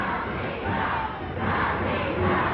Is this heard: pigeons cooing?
no